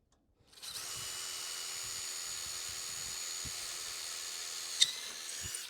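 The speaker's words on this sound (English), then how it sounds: "he's pre-drilling the hole so that the self-tapping nut will go right in" A power drill whirs steadily at one pitch for several seconds, close by, pre-drilling a pilot hole for a self-tapping nut on a Haul Master trailer, then spins down with a brief clatter at the end.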